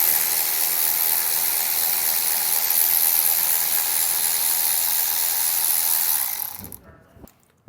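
A ratchet spins steadily and loudly up close while removing 10 millimeter bolts beneath a 2020 Jeep Cherokee, a continuous whirring clatter that runs for about six seconds before cutting off abruptly.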